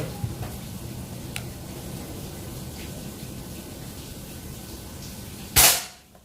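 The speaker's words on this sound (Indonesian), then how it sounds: "Tembakan yang pertama" PCP folding air rifle with a Monel barrel fired once with a Mimis Hercules 13.6 grain pellet, giving one sharp, loud crack near the end that follows a steady outdoor hiss with faint ticks.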